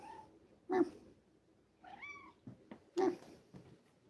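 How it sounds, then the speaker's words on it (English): Several cat meows from a house cat indoors, a few short separate calls spread across a few seconds, moderately close and fairly clear against a quiet room. "There's always coffee at my house. And there's always kitty cats."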